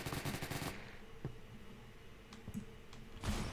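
Gunfire in the Roblox shooter Phantom Forces: a rapid automatic burst at the start, then a few scattered single shots and clicks, and another short burst near the end, all fairly quiet.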